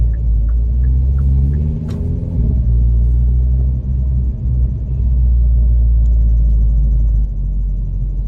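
A Hyundai Veloster N with dual-clutch transmission drives along, its steady low exhaust rumble loud throughout, with one sharp crackle near the start as the engine note shifts.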